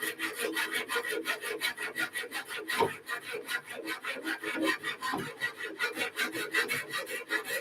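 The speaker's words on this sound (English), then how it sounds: "I want to start cutting." A hand saw cutting through wood for a desk rack, steady rhythmic rasping strokes repeating about three times a second, close and continuous with a brief pause midway.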